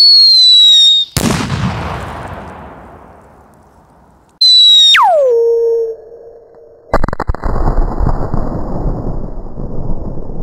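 Brightsky 45mm scream shell fireworks go up with loud, piercing descending shrieks that each end in a sharp bang followed by a rumbling decay. The pattern repeats, and a final burst of crackling follows near the end.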